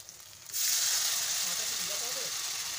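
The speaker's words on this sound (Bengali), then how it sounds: "এবার এর মধ্যে দিয়ে দেবো আমি একটু জল অল্প করে।" Water goes into fried masala in a hot pan and sets off a sudden loud sizzle, which then holds as a steady, bright hiss after a quiet start.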